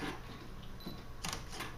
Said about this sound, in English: I have a shutter release